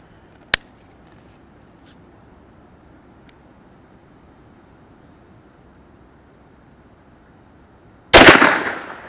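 Two sharp shots from a KelTec SUB 2000 carbine fired outdoors at a small steel target about 20 yards away, one early crack then a long quiet stretch before a second loud report with a ringing tail.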